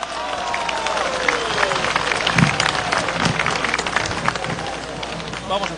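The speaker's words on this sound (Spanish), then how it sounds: "¡Recibamos con fuertes palmas!" Crowd applauding at a rally of rural patrol members supporting Peru's president, steady clapping and cheering mixed with crowd noise, sustained and fairly loud throughout.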